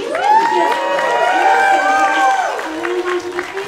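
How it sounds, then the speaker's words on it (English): A crowd at a live Santa-themed parade cheers and claps steadily as a float arrives, with excited shouts and whoops rising over continuous applause before fading slightly toward the end. "Everyone is clapping and so happy"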